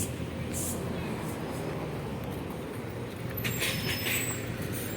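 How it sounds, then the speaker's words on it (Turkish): On a street in Alanya, a bus passes close by with a loud, continuous engine rumble and road roar, with faint hisses and rattles near the end and no talk. "Otobüs geliyor."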